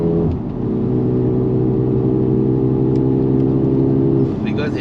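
A Mercedes GLB 35 AMG with 306 PS pulls hard uphill on a mountain road, a steady loud engine drone heard from inside the cabin, with a voice talking over it near the end.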